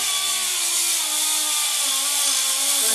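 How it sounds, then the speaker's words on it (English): A Dyna-Braid air-powered orbital sander runs continuously up close, a loud, steady pneumatic whirr with a constant hiss and no pauses. "You can set it on orbital, and in here I can set the air pressure to low or high, or medium."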